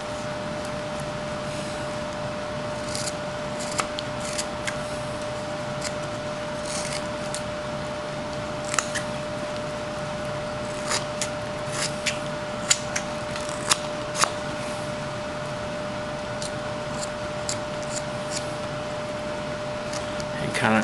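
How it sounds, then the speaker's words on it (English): A whittling knife carves a small wooden Scotty dog with soft scraping and shaving strokes, faint and intermittent with occasional sharper clicks over a steady room hum. "Just cut a little bit more off in there."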